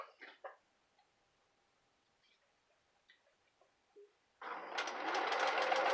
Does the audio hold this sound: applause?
no